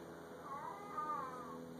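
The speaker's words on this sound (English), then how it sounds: "It sounds like a cat." Odd, cat-like wailing with a wavering, meow-like tone, moderately faint and sustained for about two seconds over a steady background hum, no speech.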